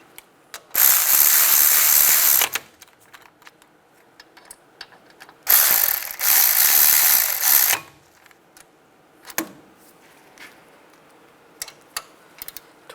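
A ratchet spins in two long bursts of rapid clicking, then a few scattered ticks, as brake caliper bolts are run in on a 2006-2009 Volkswagen Rabbit, close and loud with quiet gaps between.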